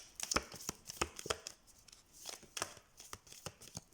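Tarot cards shuffled by hand, a close, quiet run of crisp riffling snaps and flicks in uneven bursts over about four seconds.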